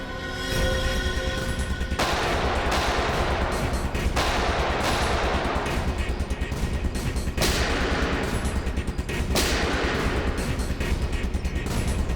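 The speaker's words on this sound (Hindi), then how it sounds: "वहां से चल रही है गोलियां।" Sustained bursts of automatic gunfire rattle on loudly and nearly nonstop during a snowstorm, punctuated by heavier reports every couple of seconds.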